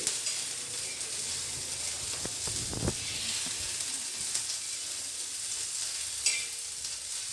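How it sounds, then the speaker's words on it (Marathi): Ginger, garlic and a few chillies roasting in oil for a small-fish dish, giving a steady low sizzle with a few brief stirring scrapes near the middle, no voices. "हे छान आपण याच्यामध्ये या तेलामध्ये भाजून घे"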